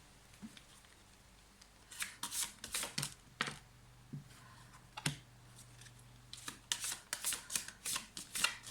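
Oracle cards being turned over and handled during a reading, giving soft papery flicks and shuffling bursts in irregular clusters, close and fairly quiet, with a faint low hum beneath and no talk.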